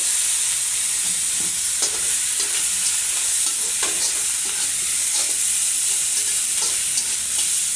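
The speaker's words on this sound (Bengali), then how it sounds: "এখন কিন্তু দিয়ে দেবো হচ্ছে শোল মাছের মাথাগুলো" Snakehead fish heads frying in a pan with cumin, a steady bright sizzle broken by occasional scraping stirs, close and without speech.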